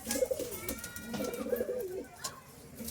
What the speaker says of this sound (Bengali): এই কালদম পায়রা আছে, কালদম পায়রা একদম বিগ সাইজ পায়রা